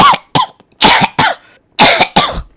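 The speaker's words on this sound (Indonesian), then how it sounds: "gua batuk beneran" A person coughing hard in a series of loud, close bursts, about five or six rough coughs in uneven pairs with brief silences between.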